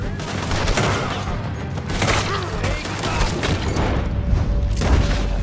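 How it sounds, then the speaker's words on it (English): Gunfire in Red Dead Redemption 2 during a barn shootout, a loud, continuous flurry of overlapping shots and booming impacts close by, with scattered sharper cracks throughout. "Why is there such a delay in the shooting?"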